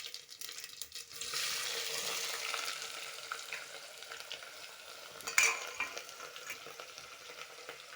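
Onions dropped into hot oil with cinnamon and fennel burst into a strong sizzle that settles into steady frying, with one sharp utensil clink partway through.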